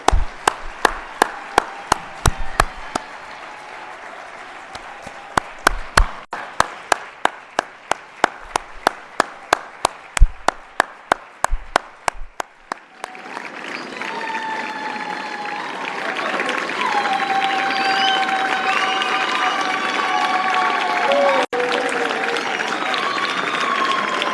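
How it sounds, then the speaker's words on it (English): An audience at the closing plenary of the U.S.-Africa Business Summit in Botswana claps: sharp, evenly spaced claps at first, then dense, sustained crowd applause swelling loud to the end. "please join me in giving President Masisi and the people of Botswana a round of applause for an incredible summit"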